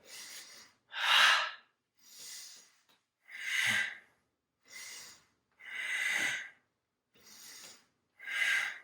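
Deep breathing during core exercise, eight slow audible inhales and exhales in a steady rhythm, close and breathy with silence between each breath.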